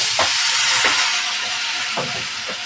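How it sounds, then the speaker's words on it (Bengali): Spices for a potato and pabda fish curry hissing loudly in a pan just after water is added, a close, dense steamy sizzle with a few brief bubbling pops, continuous and without speech. "মশলা কষানোর জন্য একটু পানি দিয়ে দেব,"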